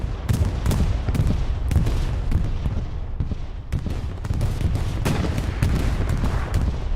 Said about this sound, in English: Bombing run comes through.